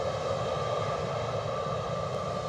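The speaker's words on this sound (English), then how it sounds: "in shot is the second British Airways Embraer 190 departure of the show" A British Airways Embraer 190 jet departing Edinburgh Airport, heard as a steady, moderately distant engine roar with a broad rushing hum that holds at an even level throughout.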